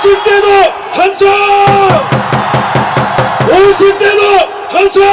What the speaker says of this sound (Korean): 40대도 함성!